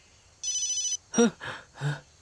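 A phone rings in a Hindi-dubbed horror movie, one steady electronic ringtone burst lasting about half a second. Voices follow as people start talking right after the ring.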